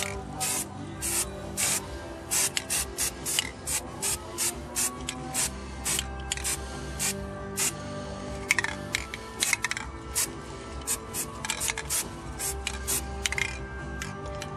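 A spray paint can with a drilled nozzle sputters black specks onto a homemade Halloween headstone to make a granite effect, giving repeated short hissing spurts in an irregular rhythm, fairly quiet and close, with no talk.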